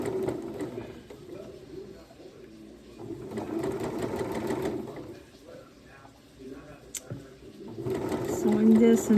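A sewing machine stitches the elastic casing at the bottom of a dress sleeve, running in steady bursts that pause briefly midway and pick up again louder near the end, close by, with faint background sounds.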